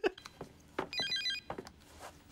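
A telephone rings with a bright electronic warble, one short burst of repeated chirps heard close by, surrounded by chatter and speech in French.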